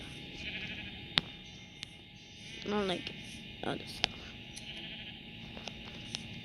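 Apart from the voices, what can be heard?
sheep bleating in the video game Minecraft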